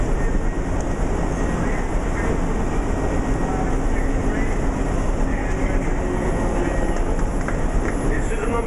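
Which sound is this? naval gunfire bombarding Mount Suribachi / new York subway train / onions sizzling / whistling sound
new York subway train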